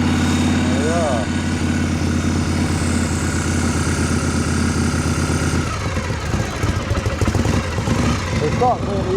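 A 1978 Harley-Davidson Shovelhead 1200cc chopper engine running after a kick start, idling with a steady, loud, lumpy throb close by, then roughening and revving unevenly, with a voice over it.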